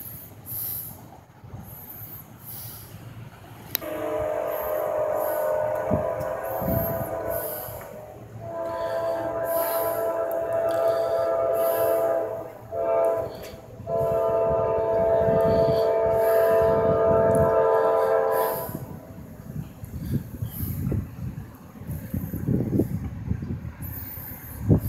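NS 216 freight train rolling past at a trackside spot: a steady rumble of wheels and cars with loud tonal, horn-like bands that swell and break off several times, fading at the end.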